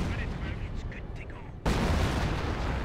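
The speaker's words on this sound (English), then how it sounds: "And there's 25 pounder barrage." A 25-pounder artillery barrage in Company of Heroes lands as a dense, continuous rumble of booming blasts, which swells sharply louder partway through and holds heavy to the end.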